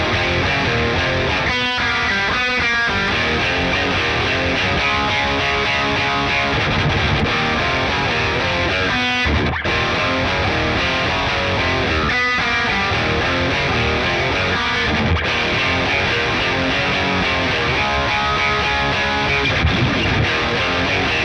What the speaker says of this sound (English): let's do some drop D stuff and just like some heavy riffs